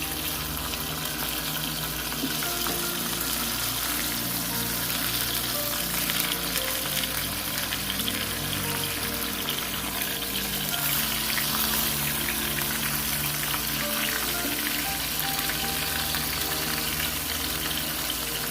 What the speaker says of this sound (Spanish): Ya el aceite y el sartén están bien calientes. Vamos a empezar a sellar nuestro pollo.